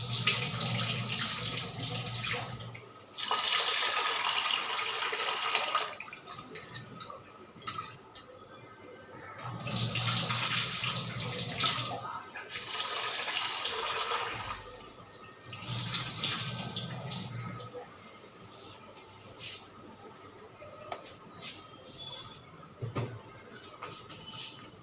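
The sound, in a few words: rice being washed under running water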